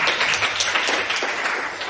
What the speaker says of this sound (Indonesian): Tepuk tangan dulu untuk Tilly.